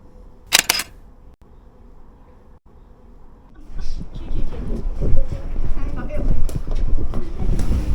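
A Sony A7R camera shutter fires once, a brief crisp click near the start, on a Beijing street, followed by quiet and then busier street noise with people talking nearby.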